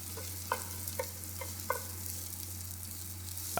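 Chopped yellow onion fries in a pan with a steady bright sizzle, while a utensil scrapes and taps the pan several times at a close, even pace.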